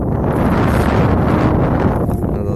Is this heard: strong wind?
yes